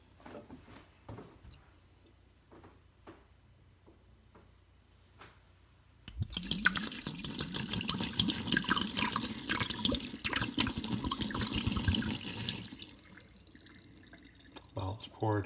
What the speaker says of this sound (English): Bottles poured.